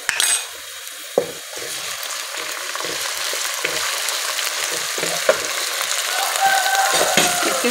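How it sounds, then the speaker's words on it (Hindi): Ginger garlic paste frying with light-brown onions in a pan, a steady soft sizzle broken by scraping stirs and occasional clinks of a spoon against the metal. "अदरक लहसुन जाएगा इसमें, इसे फ्राई करेंगे हम।"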